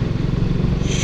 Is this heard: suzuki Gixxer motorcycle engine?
yes